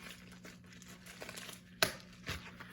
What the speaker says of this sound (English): Let me get this first one open. All right, so let me just rip this.